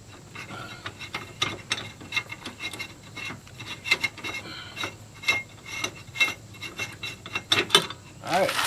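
Repeated scraping, ratcheting turns of a tool loosening the tie rod on a 2004 Nissan Maxima, close and fairly quiet, in an irregular rhythm of short rasping strokes.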